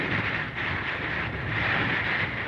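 Hurricane Ida's wind roars in a steady, dense rush that buffets the microphone, loud and continuous with no voices.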